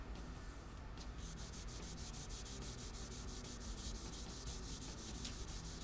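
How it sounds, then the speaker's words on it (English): Steady rhythmic sanding strokes rub across the finish of an Epiphone Zakk Wylde custom guitar body, cutting through light original factory color; close, continuous scratching with regular back-and-forth pulses. "I started sanding through some of the original factory color."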